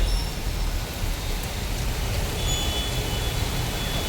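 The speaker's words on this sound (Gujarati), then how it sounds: "ખૂબ સારો વરસાદ જે છે એ વરસી રહ્યો છે" A heavy downpour falls over a street in Morbi near a GIDC area, producing a dense, steady wash of noise that stays even throughout with no breaks.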